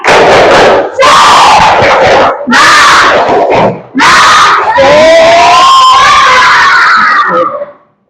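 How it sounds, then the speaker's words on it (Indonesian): A classroom of children shouts a spirited rhythmic cheer (tepuk semangat) in several loud bursts separated by short pauses, with sustained group yelling near the end before it cuts off. "Tepuk semangat."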